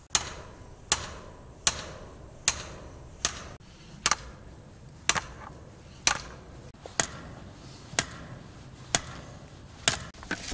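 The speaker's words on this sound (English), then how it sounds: "But now this keeps your hand away from the rod, and you can pound it in." A hammer pounds a metal grounding rod into the ground, about a dozen sharp ringing strikes at a steady, slightly uneven rhythm, close and loud with no talk.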